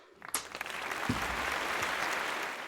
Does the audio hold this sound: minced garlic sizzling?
no